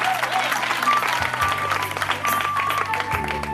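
Congregation applauding during a Sunday church service, a steady wash of clapping and crowd noise throughout with sustained organ or keyboard tones underneath.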